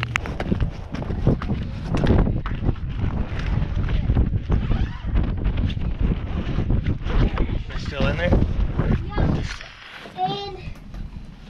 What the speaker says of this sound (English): the wind's picking up a little bit, so all that background noise isn't gonna be good for you guys